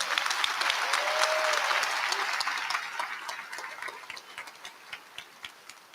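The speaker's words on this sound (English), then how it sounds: "Let's give her a big round of applause." An audience at a university law school commencement ceremony applauds, dense clapping that starts strong and gradually thins into scattered claps.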